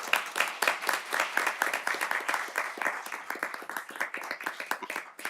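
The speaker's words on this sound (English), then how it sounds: "giving you a round of applause" A round of applause from a school board meeting audience, many hands clapping in a steady, dense patter that holds for several seconds at moderate volume with no talking over it.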